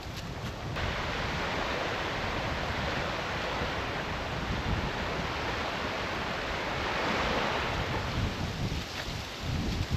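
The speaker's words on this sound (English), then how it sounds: "Welcome to Tomahawk Lake. It's pretty and windy." Strong wind blowing steadily across an open lake in the Michigan wilderness, a loud, continuous broadband rush with gusty swells and no voices.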